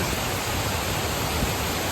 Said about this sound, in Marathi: हे शानदार असं धबधबा